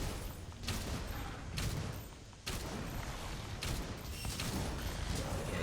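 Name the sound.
heavy bowgun shots firing in video game Monster Hunter World Iceborne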